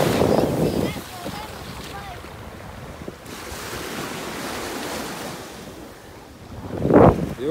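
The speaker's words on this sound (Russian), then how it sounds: "Океан." Ocean surf washes onto a white-sand beach on Saona Island in the Dominican Republic, loud and close, with waves surging and receding under heavy wind buffeting the microphone.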